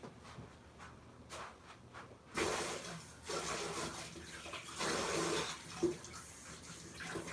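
A kitchen tap runs ice-cold water while sticky, gooey hands are washed. Quiet at first, the water comes on as a steady rushing hiss with splashing swells and small knocks.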